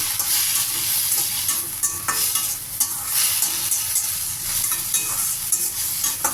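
Ginger, garlic, mint, coriander and tamarind sizzle steadily in a pan while a utensil stirs them, with continuous bright frying crackle and repeated scraping strokes throughout.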